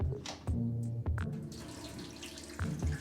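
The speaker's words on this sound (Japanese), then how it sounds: "水を切ったら今度は煮るために水を注いでいく。" Tap water splashes and pours into a sink over a large batch of soaked, swollen soybeans being drained and refilled for homemade miso, with short gushing bursts and a steadier trickle in between.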